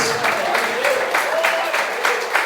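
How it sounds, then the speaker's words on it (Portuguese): Church congregation clapping in praise during a Portuguese-language worship service, a steady, dense wash of palms with rhythmic pulses, fairly loud and close, with faint voices mixed in. "as palmas vão glorificar o nome do Senhor Jesus"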